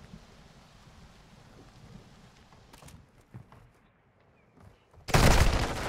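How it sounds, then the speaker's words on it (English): Heavy rain with thunder, a steady wash of downpour broken by faint distant rumbles, ending in a sudden loud crack-and-roll of thunder close by. "the rain and the thunder mask noise a lot"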